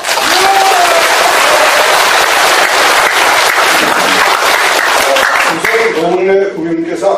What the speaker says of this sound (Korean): 그분을 위해서 우리가 박수 한번 보냅시다.